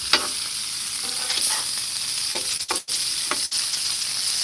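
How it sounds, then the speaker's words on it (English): Bacon frying in a pan outdoors at a lake cookout gives a steady, close sizzle with crackles and brief scraping and handling sounds as pieces are lifted out. "My bacon is probably getting to be extra crispy here, so pull that off and set it down right here."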